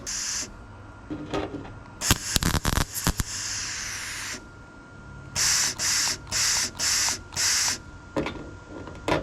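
A welding gun lays quick tack welds as a series of six short, evenly spaced crackling bursts, each about half a second long. Earlier, a cluster of sharp, irregular metallic clatter and hiss comes first, with no voices.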